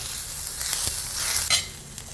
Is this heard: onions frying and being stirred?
yes